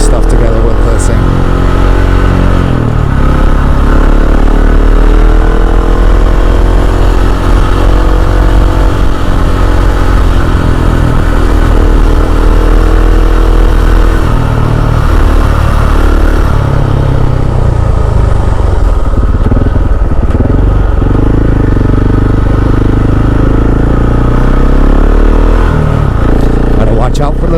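A KTM 690 SMC R supermoto motorcycle runs through slow-speed gymkhana drills, its single-cylinder engine droning loud and steady with rising and falling revs, close throughout with wind rumble.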